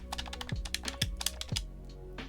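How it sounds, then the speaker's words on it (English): Clicky face buttons on an Xbox Series X controller are pressed in quick irregular bursts of sharp, close clicks, with a low background hum underneath. "They are by far the loudest buttons of any of the controllers I own."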